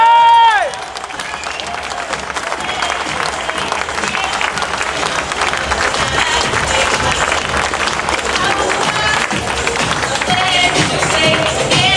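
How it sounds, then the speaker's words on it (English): A crowd at a triathlon finish applauds a podium finisher with sustained, loud clapping and some cheering, a dense roar of hands that follows a short burst of an announcer's voice and continues with talk beneath it. "Give a massive heartfelt round of applause for Richard Gardiner."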